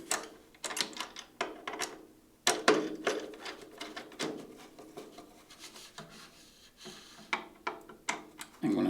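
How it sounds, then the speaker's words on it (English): Screws being tightened on a drum trigger mount inside a 13-inch tom: quiet, close scraping and rubbing bursts in an irregular rhythm with brief pauses, alone without talk. "I'm gonna put this, tighten the screws."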